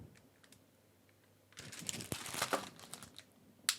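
A plastic package of Benton's Pink Lemonade Creme Cookies from Aldi is torn open, starting after a quiet moment with close, sharp crinkling and rustling that peaks and then ends with a final crisp crackle.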